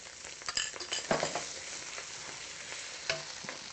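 Egg, noodles, garlic and ginger fry in a hot pan with a close, soft sizzle, broken by a few quick scraping stirs and clinks of a utensil against the pan.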